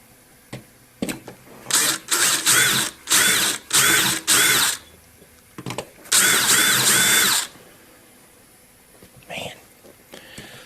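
A power drill whines in repeated short bursts while drilling metal with a worn bit, then one longer sustained run, loud and close, with brief pauses between.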